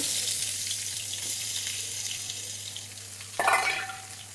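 Fish fries in oil in a pan, giving a steady close sizzle with a low hum underneath and a louder crackling burst near the end.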